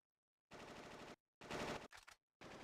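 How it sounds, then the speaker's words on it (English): Distant automatic gunfire in the video game Final Fantasy VIII, three or four separate rapid bursts of machine-gun fire with silent gaps between them, faint and muffled. "What was that? Gunfire? Sounds pretty bad."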